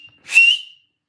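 A single short, shrill whistle rising slightly in pitch, loud and close, then silence.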